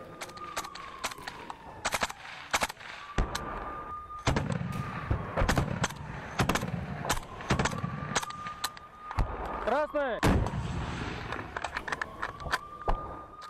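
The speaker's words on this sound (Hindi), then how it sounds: "रूसी सैनिक ने यूक्रेनी फौज पर ताबड़तोड़ गोलियां बरसाई हैं" Repeated sharp gunshots crack out in irregular bursts on a battlefield in Crimea, some single and some in quick strings, with a rumbling vehicle and a whine in the background.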